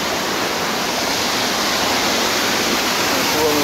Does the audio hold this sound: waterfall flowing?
yes